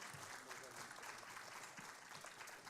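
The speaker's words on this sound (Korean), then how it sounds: "우리 토론회에 참여해주신 우리 교수님, 교장선생님, 과장님께도 큰 박수 부탁드립니다" Quiet, distant applause from the audience at a Korean education policy forum, clapping for the participating professors, principal and section chief as the debate closes, with murmured voices mixed under the patter.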